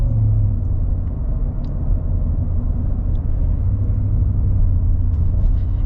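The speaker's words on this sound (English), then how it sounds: "It's a V8. It's got nice V8 sounds, but it's not too obnoxious." A V8 engine in a lifted 2025 Ford F-150 Black Widow gives a steady, deep rumble with a low droning tone, smooth and continuous at moderate loudness, sounding as if heard while driving.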